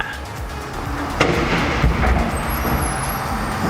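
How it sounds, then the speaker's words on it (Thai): Hydraulic bed of an Isuzu Rodeo 2.8 4x4 single-cab dump pickup lowering after a button press, a steady mechanical rumble and hiss with a brief clunk partway through, heard alone at moderate distance. "สังเกตตัวกดปุ่มตรงนี้แล้วก็ดั้มก็จะไหลลงเลยนะครับ"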